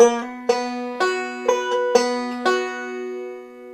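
A banjo picks a steady forward roll on the 4th, 3rd and 1st strings, bright plucked notes each ringing into the next, close and clear with no voices.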